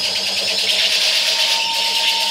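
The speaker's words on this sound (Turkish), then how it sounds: "Tabi bu kayış sesi gerçek olduğu için." Alternator running on a test bench with its drive belt squealing, a loud continuous high whine over a steady mechanical hum.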